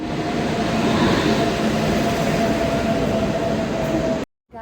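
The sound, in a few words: train at railway platform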